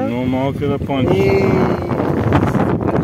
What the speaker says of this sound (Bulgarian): Се чува толкова много вятър обаче.